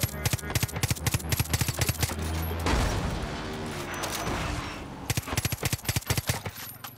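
Rapid bursts of automatic gunfire crack out in quick volleys, broken by a sustained roaring blast in the middle, loud and close, in Far Cry New Dawn.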